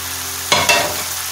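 Boiled rice tipped into a hot pan for egg fried rice, giving a sudden sizzle followed by a second burst of frying hiss that settles into steady crackling.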